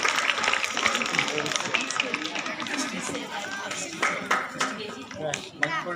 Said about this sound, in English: Claps all of you